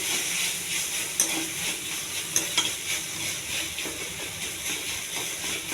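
Tomatoes fry in a tempering of garlic and two dried chillies, giving a continuous hissing sizzle up close, with intermittent clicks and scrapes of stirring.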